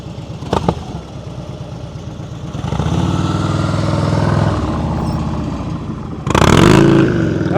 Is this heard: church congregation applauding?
no